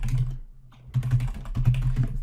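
Keys clatter on a computer keyboard as a credit card number is entered, quick close clicks in two short runs separated by a brief pause, with no voices.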